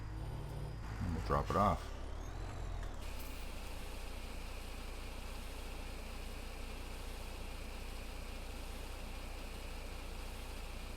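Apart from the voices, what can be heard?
Mack semi truck driving in Farming Simulator 17 video game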